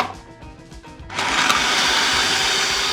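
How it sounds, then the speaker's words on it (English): A food processor starts up on peeled garlic and ginger, jumping after a brief quiet moment into a loud, steady whirring roar of spinning blades that holds to the end. "I'm going to add that to my food processor. And I'm going to process this pretty well."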